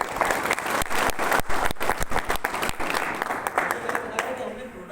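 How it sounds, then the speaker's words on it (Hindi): An audience at a business talk breaks into applause, a burst of loud, dense clapping that gradually thins and softens, with voices speaking over it. "एक बार तालियां बजा सकते हैं।"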